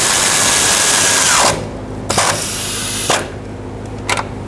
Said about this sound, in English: Hold one side, tighten up the other side.